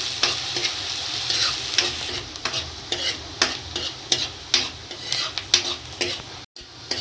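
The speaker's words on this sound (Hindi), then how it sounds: "प्याज को फ्राई करेंगे जब तक उसका कलर चेंज नहीं हो जाता।" Chopped onions sizzle steadily in hot oil in a pan, with repeated scraping stirs every half second or so, close and fairly loud, no voices.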